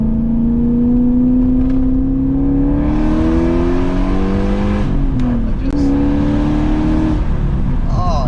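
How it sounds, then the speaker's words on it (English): A deep, throaty V8 engine of a BMW E34 540i (M60B40) revs and climbs in pitch, loud and close, with a rumbling roar throughout. "It's the V8 noises"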